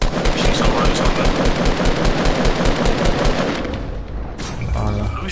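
Rapid automatic gunfire from shooting in the Fortnite video game rattles loudly in dense bursts for several seconds, then trails off into softer game sounds.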